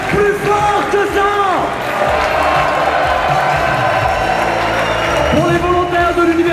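Crowd at a large outdoor rally applauding and cheering for volunteers, a broad wash of clapping and shouts under a loud amplified voice speaking.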